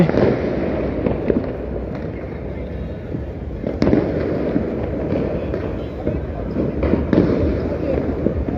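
New Year's Eve fireworks burst over Dhaka in a dense, continuous crackle with frequent sharper pops, heard from a tower top as a steady, loud barrage with no clear pauses.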